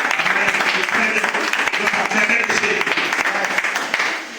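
A church congregation bursts into sustained applause, a dense wash of many hands clapping that holds steady for several seconds before tapering off at the end, with voices mixed in.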